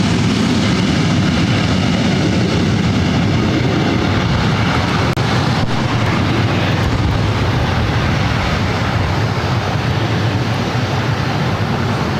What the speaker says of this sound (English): Copa Airline 737 MAX 9 now starting taxi.